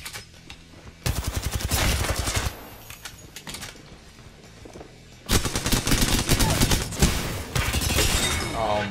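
Apex Legends gunfire comes in two loud, dense bursts of rapid shots with sharp impacts and some shattering, separated by a quieter stretch of game sounds during a duos match.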